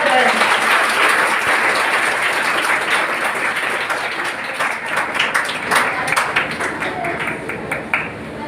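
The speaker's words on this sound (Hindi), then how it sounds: "इस बार तालियां बिल्कुल जोरदार हो जाए" An audience at a coaching institute's award ceremony claps loudly for a second-rank prize winner, a dense steady applause that thins toward the end, with a voice faintly under it.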